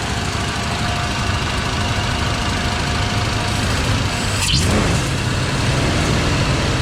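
A 1978 Ford F100 with Holley Sniper EFI, parked for years, runs at a steady loud idle with a constant low rumble and a brief swell partway through, no talking.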